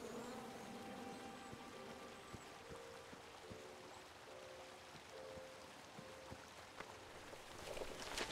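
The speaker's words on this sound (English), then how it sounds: "Wrong batch of bees." Buzzing bees in the video game King's Quest (2015), a steady insect drone with faint tonal hums, continuous and fairly quiet throughout, growing slightly louder at the end.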